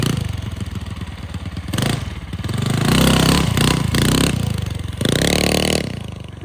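A 25hp mini quad's engine revs hard through a wheelie, a loud, close, rising and falling roar with clattery mechanical texture and short throttle dips between surges.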